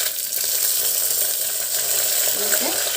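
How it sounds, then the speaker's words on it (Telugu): Mustard, cumin, fenugreek and coriander seeds sizzle steadily in hot oil for an Andhra-style chilli curry, a close, continuous crackling hiss with no voice over it. "ఇవి వేస్తానండి ధనియాలు మెంతులు జీలకర్ర ఆవాలు ఇప్పుడు అవి వేగుతా అంటే అప్పుడు రెండు మిరపకాయలు కూడా వేగేస్తానండి"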